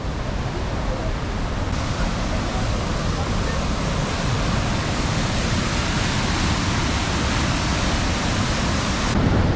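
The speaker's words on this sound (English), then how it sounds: "Apparently there's a waterfall here, so we're gonna check that out." A waterfall in Alaska gives a steady, loud broadband rush of falling water that fills the whole clip without a pause.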